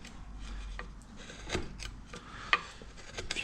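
A chisel carving a wooden chamfer, close and fairly quiet: scattered scraping and small crisp cuts, with one sharper tick near the end and no talking.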